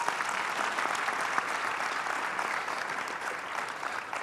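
Steady, sustained applause from a conference audience after a session on storytelling, dense and even throughout with no talk over it.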